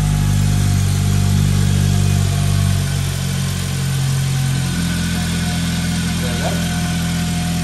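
A Honda Civic Type R FN2, fitted with an FD2 oil pump, fires up and settles into a steady, loud idle with a strong low engine drone throughout, a brief voice-like blip near the end.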